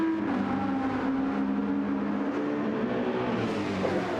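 An Audi R8 race car roars through a racing video game at Kyoto Driving Park, its engine holding a loud, steady drone whose pitch climbs near the end as the car accelerates hard.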